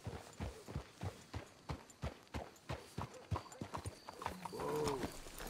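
Horses in the video game Red Dead Redemption 2 clip-clop at a walking pace, an even rhythm of distinct hoof strikes, followed by a brief whinny-like tonal sound near the end.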